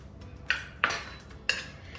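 A spoon clinks against a bowl three times while flavoured cream cheese is mixed, sharp nearby knocks separated by brief quiet.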